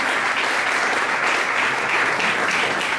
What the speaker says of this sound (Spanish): ¿qué les parece si aplaudimos al Señor por todo esto?